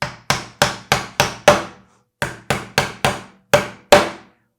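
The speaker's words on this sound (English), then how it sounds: "Take your hammer and kind of bang it straight again and continue hammering." A hammer drives nails into wooden boards while a birdhouse is built, giving ten sharp, close strikes in two quick bursts with a short pause between them, each hit ringing briefly and fading.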